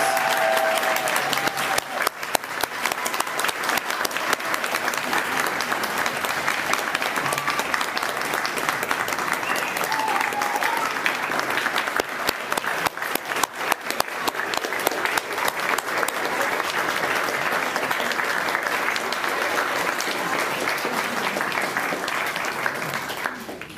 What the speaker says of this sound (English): let's all give all the honorees one more round of applause for all the fantastic work they've done in our community